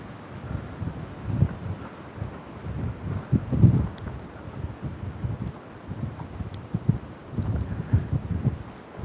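Strong gusts buffet the microphone in low rumbling bursts that rise and fall, with no voices, on a beach street walk from Khao Takiab to Hua Hin, Thailand.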